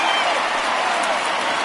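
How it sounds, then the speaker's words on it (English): Home crowd at NLDS Game 5 between the Mets and Padres rises in a standing ovation for a departing pitcher, a dense, steady wash of applause and crowd noise filling the whole moment with no break. "this home crowd likely to give him a standing O as he departs with the shutout in check"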